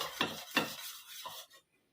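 A utensil scrapes and stirs herbal hair oil heating in a pot in a few quick strokes, close up, followed by a brief pause.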